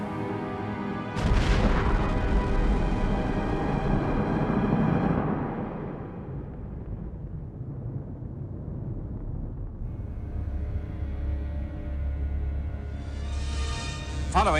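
An atom bomb explosion sounds as a deep, rumbling roar that swells suddenly, stays heavy for several seconds, then fades into a low, sustained rumble before rising again near the end.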